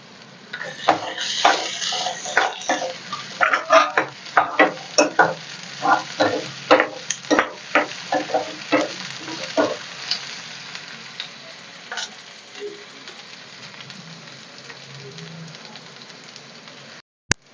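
Garlic and crushed ginger frying in a pan, with a steady sizzle broken by frequent sharp clinks and scrapes of stirring that thin out toward the end.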